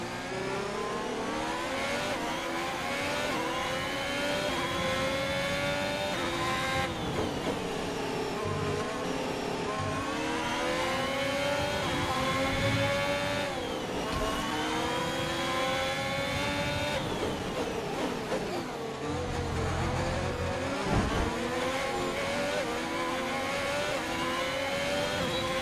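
F1 race cars lap the Canada circuit in the F1 2021 video game. High-pitched engines scream continuously, with repeated rising sweeps through the gears and brief downshifts, loud and steady throughout.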